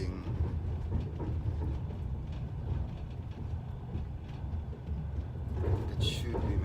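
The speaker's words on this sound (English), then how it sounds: "what's a journey in Siberia without sitting in the Trans-Siberian Express?" Steady low rumble of the Trans-Siberian railway train rolling through Siberia, with rattling carriage noise throughout and a brief brighter squeal near the end.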